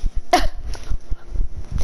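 Dogs in a room giving a sharp bark or sneeze-like burst followed by scattered thumps and shuffling noises, close and fairly loud.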